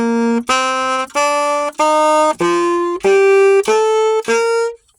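A saxophone plays a run of about eight separate, tongued notes with brief gaps between them, evenly paced and fairly loud, with no voices.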